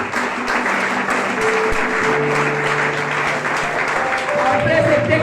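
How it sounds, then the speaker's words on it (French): A church congregation applauds and cheers loudly and continuously during a sermon. Several voices shout within the sustained clapping. "Que quelqu'un acclame très fort cette parole."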